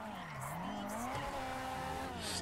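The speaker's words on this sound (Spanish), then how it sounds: "Es que escúchalo como suena nada más. Escucha, escucha, escucha ese motor." A car engine in GTA V revs up and down, its pitch rising and sliding in smooth sweeps over a rough continuous growl, with tyre noise mixed in.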